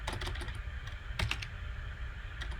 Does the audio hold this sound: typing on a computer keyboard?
yes